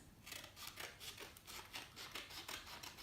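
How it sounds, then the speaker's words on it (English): Scissors cut excess paper wrapped around a cardboard toilet paper tube, giving quiet, close, rhythmic snips and rasping paper rubs in a steady series of strokes. "Then you're just going to cut off the excess"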